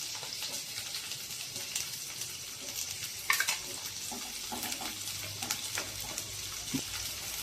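Stuffed okra (bharli bhendi) sautéing in oil in a covered pan, giving a soft, steady sizzle and crackle throughout with a few clinks of stirring, close and at low volume.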